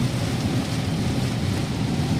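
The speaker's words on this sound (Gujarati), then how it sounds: "કેટલો વરસાદ એ છે" Heavy rain drums steadily on a car's body and windshield while the wipers run fast, forming a dense, constant roar close to the listener.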